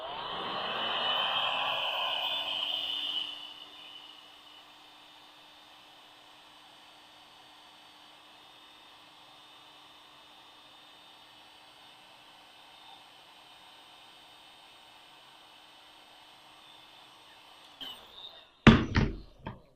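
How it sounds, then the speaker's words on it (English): A heat gun blows hot air onto heat shrink sleeving over the end of a heat tracing cable. It starts with a loud airy roar, settles into a steady quieter hum for most of the clip, then ends with a few sharp knocks. "we're going to heat shrink that down again."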